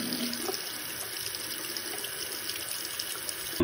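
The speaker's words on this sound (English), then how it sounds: "So when you rinse it, water pours out both sides." A tap runs steadily while a titanium safety razor is rinsed under it, water spilling out both sides of the head, a close continuous splashing with no speech.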